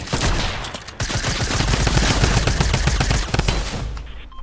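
Rapid automatic fire from a drum gun in the video game Fortnite, a loud, dense burst of shots running almost without pause for several seconds, close and dominating.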